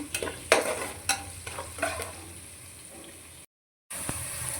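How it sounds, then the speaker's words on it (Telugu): Brinjal curry frying in a pan, with several sharp scraping stirs over a steady sizzle, then a brief drop to silence before the sizzle resumes. "ఇది బాగా ఎర్రగా వచ్చే వరకు వేపుదాము"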